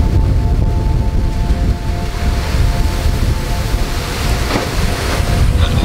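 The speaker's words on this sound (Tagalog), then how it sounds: "Nak, malakas hangin diyan." Strong typhoon wind roars steadily during Typhoon Carina, a loud, continuous broadband rush with gusty buffeting against the microphone and no speech.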